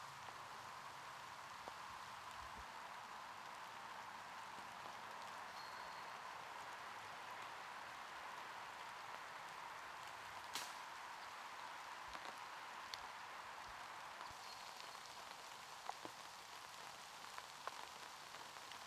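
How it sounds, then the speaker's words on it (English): Rain falls steadily across an open disc golf course during a tournament round, a soft constant patter with scattered closer drops hitting umbrellas or surfaces, growing slightly more pronounced toward the end, with no talk. "Now it's raining."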